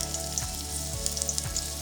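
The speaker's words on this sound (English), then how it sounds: "You can hear my sizzling, that's what we want." Beef sizzles and crackles steadily in a hot pot while being browned for stew, a dense frying hiss with small pops, no voices.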